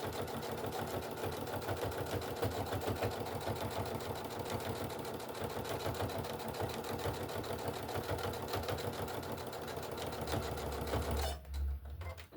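A sewing machine running steadily and close at a fast, even stitching rhythm while back stitching, then stopping abruptly near the end, with no speech.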